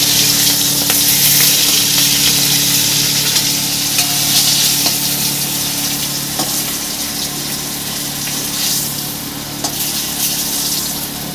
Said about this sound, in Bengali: ইলিশ মাছের মাথাটা ভাজা হয়ে গেছে